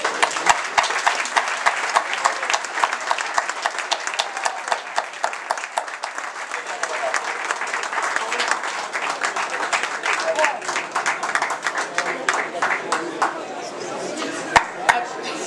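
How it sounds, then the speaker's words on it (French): An audience at an evening event claps after a cheque presentation, crisp individual claps close by over a steady crowd patter, with talking and chatter mixed in and the applause thinning toward the end. "Je demande tous vos applaudissements."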